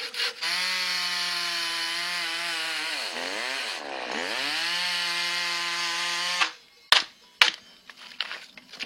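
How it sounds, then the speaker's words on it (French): A chainsaw engine drones steadily, its pitch dipping twice as the blade bites into wood, then cuts off, leaving scattered clatter and knocks. "On va faire la tronçonneuse."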